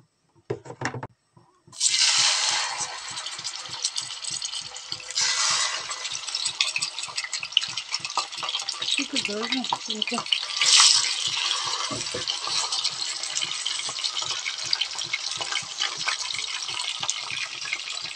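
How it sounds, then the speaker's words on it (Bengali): Tilapia fillets fry in hot soybean oil, a loud continuous crackling sizzle that flares up after a brief quiet start and carries on steadily with occasional bursts and spatters, without any talking. "তেলটা গরম হয়ে গেলে মাছগুলো ভাজি করতে হবে।"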